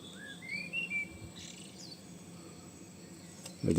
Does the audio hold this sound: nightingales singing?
yes